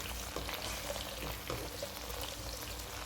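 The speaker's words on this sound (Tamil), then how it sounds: "நம்மளோட கோவக்காய் இப்போ நல்லா வறுத்துருச்சு" Ivy gourd (kovakkai) pieces frying in a pan for a homestyle tindora gravy, giving a steady soft sizzle with light stirring scrapes, close by and fairly quiet, with no talking.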